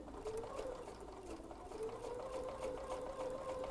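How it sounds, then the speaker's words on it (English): A sewing machine runs steadily through fabric, stitching a pieced heart quilt block from one corner to the other in a continuous, even whir with no pauses and no talking. "we are going to sew corner to corner"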